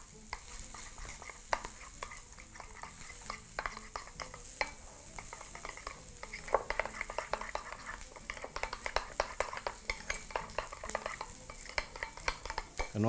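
Dried parsley and a pinch of cumin powder are mixed through a mixture, with a quick run of close, clicking scrapes and stirring strokes over a faint steady hiss.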